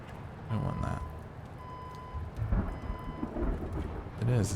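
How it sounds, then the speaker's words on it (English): Video game thunder sound effect in Blacksad: Under The Skin: low rumbling thunder rolls under steady rain, with a few brief electronic tones and a voice speaking quietly beneath the storm. "Clearly just the most common thunder sound effect in the world."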